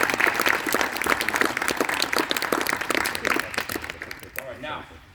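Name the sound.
audience applauding girls' team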